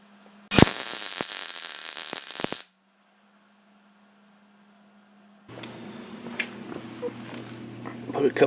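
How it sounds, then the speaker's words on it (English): A Hobart welder lays spot welds on the bottom of a metal cart: a loud crackling buzz for about two seconds, then a low hum and quiet, followed by shuffling workshop noise. "Put a couple little spot welds in there to hold the bottom of the cart"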